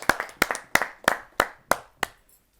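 Seven loud, evenly spaced claps sound close by at a Hindi poetry gathering, each sharp and ringing briefly before the next, fading out near the end.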